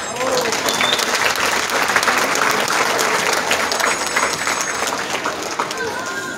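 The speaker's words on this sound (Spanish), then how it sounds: "a quien brindemos fuertes y calurosos aplausos." Loud, continuous audience applause greets a municipal president at a sociocultural community event in San Mateo Yoloxochitlán, close clapping from a crowd with scattered whistles, sustained throughout.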